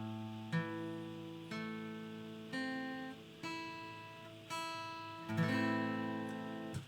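Acoustic guitar strings plucked one at a time across five strings of a chord, each note ringing clearly and overlapping the last, in a slow, even sequence, close and fairly soft with no talking.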